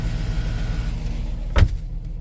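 A 2005 Cadillac Escalade engine idles at slightly raised RPM, a steady low hum from up close, broken by one short mechanical thump or click near the end.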